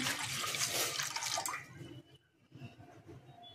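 Water pours steadily into a pan for about two seconds for gulab jamun sugar syrup, then stops, leaving faint drips and clinks.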